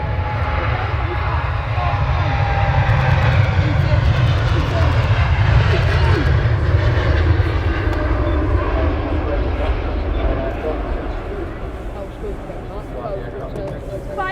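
Etihad airliner on its takeoff roll at Manchester Airport, a loud, sustained engine roar with a deep rumble, holding strong before easing off slightly toward the end; a voice talks over it.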